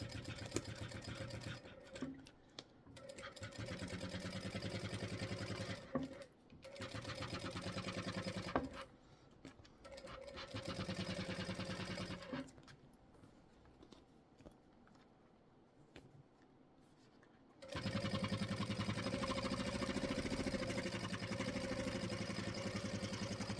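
A sewing machine top-stitches vinyl in several sustained runs, its fast, even needle hum starting and stopping with short quiet gaps between passes, close and steady.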